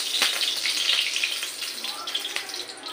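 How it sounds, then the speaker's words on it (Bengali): White cooking oil is poured into a pan already heating with ghee, producing a steady, close hiss and sizzle that fades slightly near the end. "সাদা তেল দিচ্ছি আমি, সাদা তেল"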